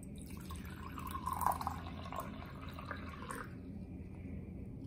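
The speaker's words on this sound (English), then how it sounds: "now you're going to pour that into your water bottle" Cool water, about a cup, poured into a spray bottle for an apple cider vinegar rinse, with a steady trickling, dripping flow at moderate level throughout.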